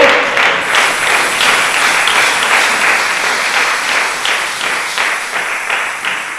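A church congregation bursts into loud, close applause, dense overlapping claps that hold steady and then slowly thin and fade toward the end.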